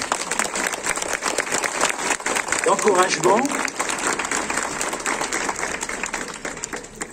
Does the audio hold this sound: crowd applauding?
yes